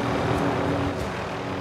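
A helicopter in the video game Call of Duty: Warzone drones on with a steady, close engine and rotor roar that holds even throughout.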